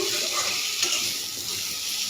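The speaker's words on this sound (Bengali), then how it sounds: "আলুটাকে নুন হলুদ দিয়ে লালচে করে ভেজে নিলাম।" Potatoes fry in a wok with salt and turmeric until reddish-brown, giving a continuous close sizzle with scraping stirs and no voices.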